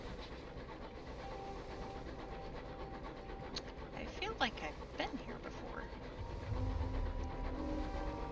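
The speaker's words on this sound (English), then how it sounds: "Distant clamor of engine yards" Distant engine-yard clamor in the game Sunless Skies, a low rumbling bed with scattered metallic squeals and clanks, swelling into a heavier low drone near the end, while a person talks over it.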